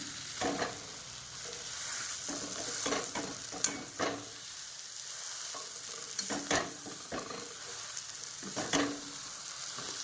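Potato filling with spices sautéed in a pan, steady sizzling broken by repeated scraping stirs of a spoon against the pan, close and moderately loud, with no voices.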